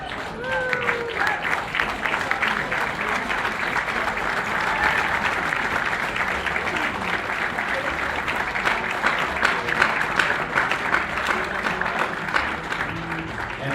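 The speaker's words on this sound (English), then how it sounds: "big round of applause for Gerard" Guests at a wedding reception give Gerard a long, full round of applause, dense clapping from a room of people that holds steady for many seconds, with some crowd voices mixed in.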